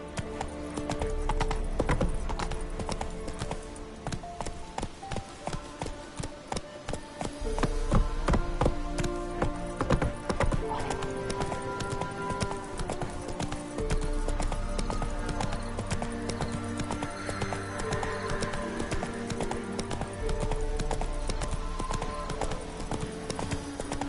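The horse Roach gallops in The Witcher 3, a steady close clip-clop of hooves with an occasional whinny over a continuous game soundtrack.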